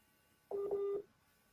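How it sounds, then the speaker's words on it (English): A phone reconnecting to a call gives a single steady dialing tone lasting about half a second, moderately loud over a quiet background hum. "his phone is reconnecting"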